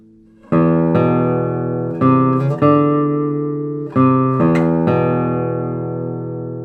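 The low fifth string of a 2023 Steven Walter classical guitar plucked a few times, each note ringing out fully and sustaining before the next, played alone.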